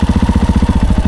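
A four-stroke motorcycle engine idles at normal speed, a loud, close, even low thumping pulse repeating rapidly and steadily with no talking.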